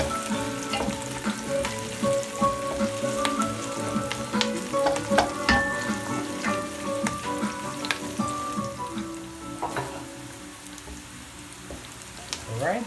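Pork sizzling and frying in a pan for dinuguan, a steady crackle with clinks and stirring scrapes of a utensil, sustained and close throughout.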